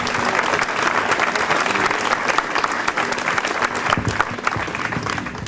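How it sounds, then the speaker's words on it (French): An audience at a running race applauds the marshals along the route, a dense, sustained round of clapping from a crowd, steady and fairly loud throughout. "donc on peut les applaudir."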